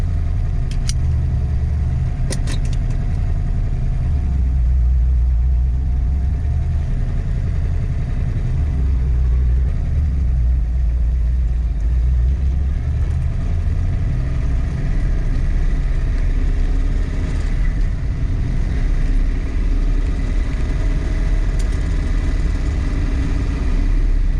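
A 1966 Mustang with a freshly installed Blueprint 347 stroker engine that is running poorly drones steadily and loudly at low pitch with a faint whine on top, close and continuous with no talk.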